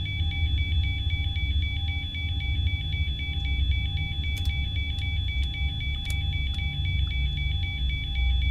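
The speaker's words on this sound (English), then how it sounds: "We've got a beeping." Cockpit alarm beeping in a Boeing 737-800 flight simulator game: a steady, rapidly repeating electronic tone pulsing continuously over a loud low engine and cabin hum, with a few faint clicks and no speech.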